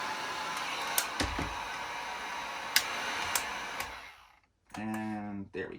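Heat gun blowing steadily on vinyl graphics wrap being stretched onto a Pro Boat, a continuous airy roar with a few sharp clicks and handling taps, cutting off briefly before a lower-pitched hum resumes.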